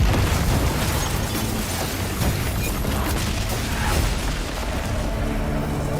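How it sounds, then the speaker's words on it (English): A nuke detonating in the video game Honkai: Star Rail, a loud, dense, sustained roar of explosive rumble and crackle that fills the whole stretch without letting up. "She just shoot a nuke."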